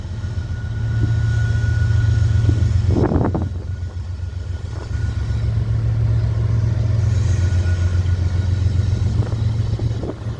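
A Florida East Coast Railway intermodal freight train rumbles past with a deep steady drone, a louder burst of grinding noise partway through, and the rolling roar continuing afterward.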